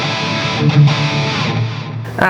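A distorted electric guitar played through a Donner Arena 2000 multi-effects pedal plays sustained, crunchy chords with a thick processed tone, ending on a sharp pick attack.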